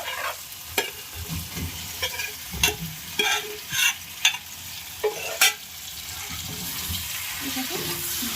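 Jackfruit and fried potatoes being stirred into oily spice paste for a Bengali jackfruit and prawn curry, with close, loud scraping strokes in an irregular rhythm over a continuous sizzle.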